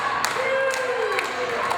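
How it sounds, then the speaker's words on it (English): A wrestling crowd claps and cheers for wrestler Harlow O'Hara, the applause rolling steadily beneath a commentator's voice, with a faint whistle-like tone rising through it. "They're chanting and they're clapping for Harlow"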